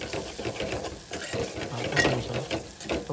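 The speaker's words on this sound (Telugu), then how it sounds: "ఇప్పుడు ఇలా టమాటాలు వేసుకోవాలి." Tomato pieces being added to a pan of egg tomato pulusu, giving a steady, fairly loud frying rush with stirring and scraping throughout, no voices.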